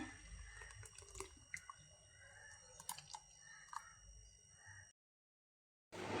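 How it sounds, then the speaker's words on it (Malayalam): Blended homemade juice is strained and poured into a bowl, a close, quiet trickle with wet drips and splashy bits for about five seconds, then a moment of silence before the pouring picks up again. "ഇനി നമുക്കൊരു പാത്രത്തിലേക്ക് അരിച്ചൊഴിക്കാം"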